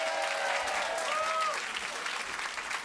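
A comedy club audience at The Comedy Store applauds as a comedian takes the stage. Sustained crowd clapping fills the room at moderate distance with a few whoops, and it tapers slightly toward the end.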